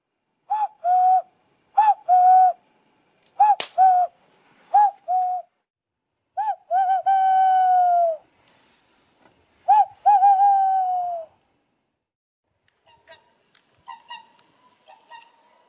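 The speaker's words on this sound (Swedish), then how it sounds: "Lyssna på fåglarna och bara må gott." Birds call outdoors in short repeated hooting phrases, clear and fairly close, with quiet gaps between and fainter calls near the end.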